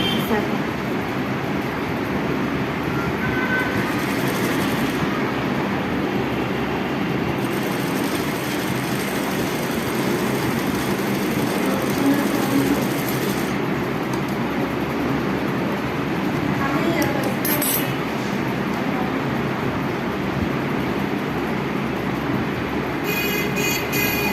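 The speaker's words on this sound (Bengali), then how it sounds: "এইবার হচ্ছে তোমার সাইড টেকিংটা সেলাই দেবে সাইড থেকে" A sewing machine running a side seam on a blouse, its motor making a continuous rhythmic clatter and whir that barely changes over a long stretch.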